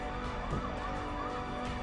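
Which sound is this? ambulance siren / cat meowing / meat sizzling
ambulance siren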